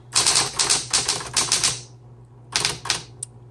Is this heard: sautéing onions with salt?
no